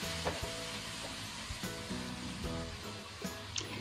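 Prawns stir-fried in a hot wok with light soy sauce and oyster sauce, a steady crackling sizzle with periodic scraping strokes of the spatula tossing the shrimp, close and continuous.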